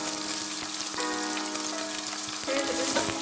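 Chopped onion and three green chillies fry steadily in oil for a raw jackfruit curry, giving a continuous close sizzle with faint crackles and a couple of soft stirring clinks throughout, with no talking.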